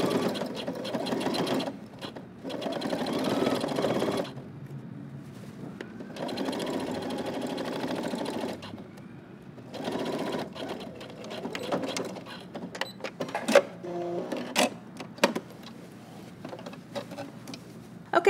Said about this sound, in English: I'm just gonna follow the existing stitching line and stitch through all layers.